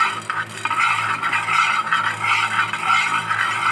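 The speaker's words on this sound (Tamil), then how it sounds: "இதை கடாயில் போட்டு நல்லா வறுத்து எடுத்துங்க." Black peppercorns dry-roast in a kadai pan, stirred steadily with a continuous scraping and rattling hiss at close range, with no talking.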